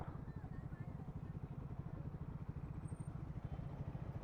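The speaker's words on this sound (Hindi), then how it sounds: "सुपर बाइक की साउंड यार एक नंबर साउंड आ रही है" Engine of a superbike passing in Jaipur city traffic, a steady low mid-pitched rumble with a rapid pulsing beat, heard from a rider's vantage without speech.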